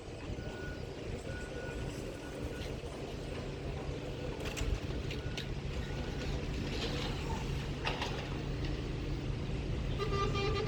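Car horns toot in a traffic backup in St. Lucia, steady street traffic with a bus and trucks rumbling close by, several short honks breaking through the continuous engine noise.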